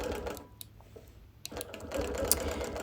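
A sewing machine stitching in the ditch between a quilt's outer border and frame, giving a quiet mechanical whir that drops to a near pause before resuming steadily, with a few small clicks.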